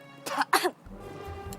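Two sharp coughs in close succession after choking, near and fairly loud, followed by a quiet low background hum.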